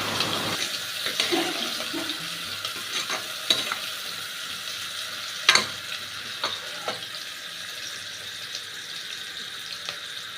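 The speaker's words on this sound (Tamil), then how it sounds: "வெங்காயம் வதங்குற வரை பொன்னரமாக வர்ற வரையும்" Onions sautéed with mint and coriander leaves in a pan for kuska rice, with a steady soft sizzle and scattered scraping clicks of stirring, close and fairly quiet, no voices.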